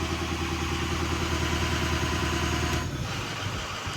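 A Ford 6.0 diesel engine runs at a steady raised high idle held by a switch, a close, even rumble with rhythmic clatter that drops slightly near the end.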